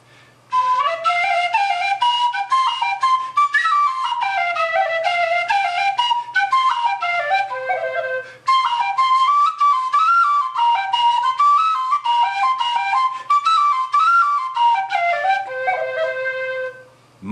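A Parks plastic whistle with its tuning ring half closed plays a quick ornamented folk melody, softer and breathier, with a short pause midway.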